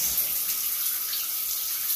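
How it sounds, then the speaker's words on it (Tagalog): A steady, hissing rush of shower water pouring strongly and continuously, close by, in a house in the Philippines, with no voices. "Lakas ang tubig dito."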